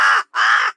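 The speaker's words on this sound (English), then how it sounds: "This is a bird." A crow gives two loud, harsh caws in quick succession, close and clear, with a short silent gap between them.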